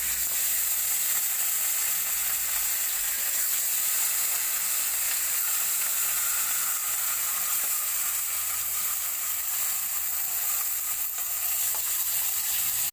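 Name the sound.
fish frying in hot mustard oil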